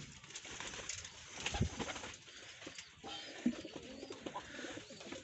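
Red wild pigeons in a loft give soft, low coos against steady background noise, with an occasional flutter of wings.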